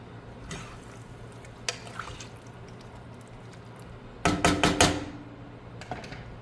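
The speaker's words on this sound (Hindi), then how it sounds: "अब इसमें हम 1 कप पानी डालेंगे" Water poured from a large cup into a mutton and potato curry in a pan: scattered drips and clinks, then a short burst of splashing pour near the end, followed by a few quieter drips.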